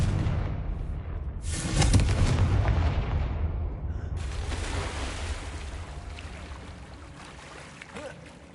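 A Confringo explosive spell in Hogwarts Legacy gives a heavy boom with a rumbling blast that swells after a short lead-in and then rolls off into a long, fading rumble.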